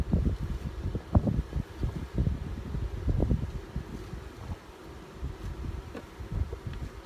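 Honey bees in a hive box hum in a dense, close swarm, with brief louder passes near the microphone over light wind noise and no talk.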